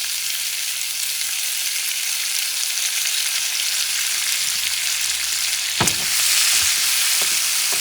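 Shrimp cooking in a little oil in a pan, a loud, even hiss of frying that runs on steadily, broken near the end by a brief utensil clatter, close and without talk.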